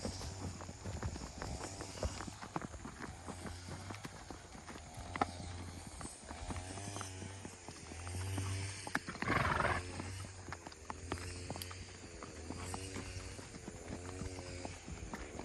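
Horses walk along, hooves clip-clopping in an uneven rhythm close by, with a low motorbike-like drone and faint rustling underneath and a short whinny-like burst midway.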